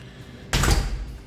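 Hotel room door, opened with a sudden close thud and rattle after a quiet moment, then a short fading rustle.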